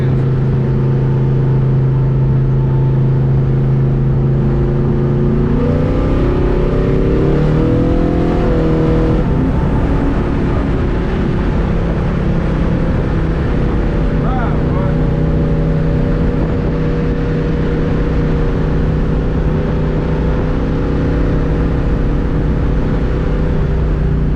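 An LS-swapped Chevrolet S10 pickup merging onto the interstate, its V8 engine droning loudly and steadily, with a pitch rise as it accelerates partway through, and a voice talking beneath the engine noise.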